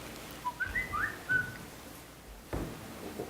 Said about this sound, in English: Who's whistling? This is somebody's phone.